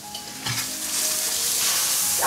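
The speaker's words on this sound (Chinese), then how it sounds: "姜蒜先放下去炒一下" Ginger and garlic hit hot oil in a wok with a rising, crackling sizzle, a scrape of stirring near the start, the frying growing louder and steadier up close.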